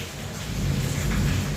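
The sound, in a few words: heavy rain and thunder outside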